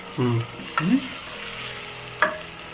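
Ginger garlic paste fried in a pan for green peas pulao, with a low sizzle under a few short stirring scrapes and knocks, fairly close.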